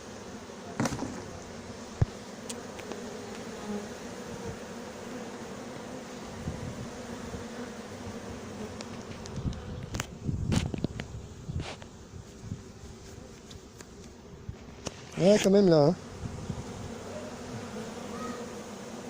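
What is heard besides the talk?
bees buzzing around a horizontal hive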